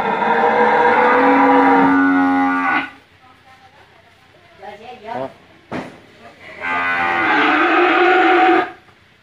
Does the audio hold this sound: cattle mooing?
yes